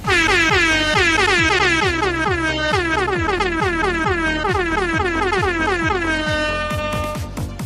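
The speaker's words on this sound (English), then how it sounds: "I want to get the air horn going. We're going to do an air horn jam." A loud air horn blares continuously, pulsing in rapid repeated bursts with a falling pitch on each blast, dense and close for several seconds.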